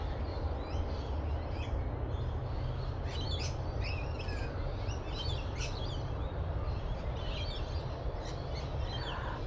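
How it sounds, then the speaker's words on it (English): Birds chirp and tweet all around on a misty morning, scattered calls popping up over a steady outdoor hum. "birds everywhere."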